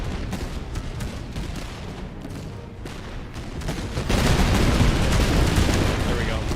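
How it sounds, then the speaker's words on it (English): Massed musket volleys crackle in the Master of Command battle, a dense continuous rattle of gunfire that swells louder partway through, with speech over it. "We're gonna take one more volley,"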